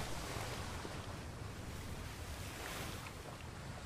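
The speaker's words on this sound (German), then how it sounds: "Beobachte die Gischt und die Wellen." Ocean waves and spray in the video game Atlas, heard as a steady, continuous broadband wash of surf and wind at even loudness throughout, with no voices present.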